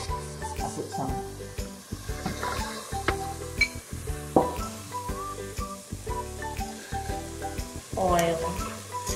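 Carrots frying in oil in a pan for a Nyonya chicken potato stew, giving a loud, steady sizzle close up with repeated stirring scrapes and a rising hiss near the end.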